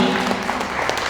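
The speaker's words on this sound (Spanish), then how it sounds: "Den un aplauso al Señor por eso, mis hermanos" A church congregation applauds during a Sunday service, a continuous wash of clapping from many hands with a few cheers rising through it.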